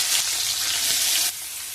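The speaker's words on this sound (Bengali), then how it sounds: "তেল গরম হয়ে গেছে, দিয়ে দেবো ছোট চিংড়ি মাছ।" Small shrimp frying in hot mustard oil, a steady bright sizzle that holds loud and close for over a second, then drops a little softer near the end.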